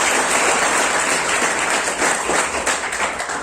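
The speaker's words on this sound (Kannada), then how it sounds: "ಒಂದು ಜೋರಾದ ಚಪ್ಪಾಳೆಯನ್ನು ತಟ್ಟಿ" Loud, sustained applause from a ceremony audience, a dense steady wash of clapping that carries through the whole stretch without a break.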